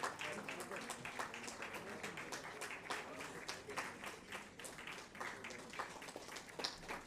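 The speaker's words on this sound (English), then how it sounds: "we would request you to keep clapping for the award winners" Steady, moderately distant applause from an audience at a sanitation awards ceremony in a conference hall, a dense patter of many hands clapping continuously throughout.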